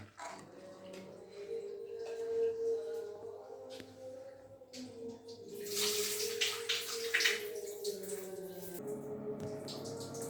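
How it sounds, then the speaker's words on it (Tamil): Dried chillies and coriander leaves are washed in a bowl of water, with soft splashing and swishing close by, joined by brief running water and a louder rush of pouring midway through. "இதெல்லாம் ஒன்றா கழுவி தண்ணி நிறுத்திட்டு வேறு தண்ணி மாற்றிக்கலாம்"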